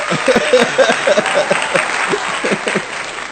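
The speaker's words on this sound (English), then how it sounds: "clap it up for me" Applause from the audience at a live podcast show, a steady patter of clapping with a voice talking over it throughout.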